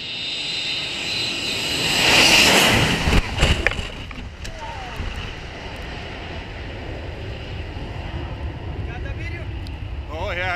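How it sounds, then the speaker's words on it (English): An MD82 airliner makes a very low pass on takeoff, its engine roar swelling loud and close near the start, then easing into a steady, broad rumble as it moves off, with some voices underneath. "Incel AirMD82 performs an incredibly low pass on takeoff filmed from the ground."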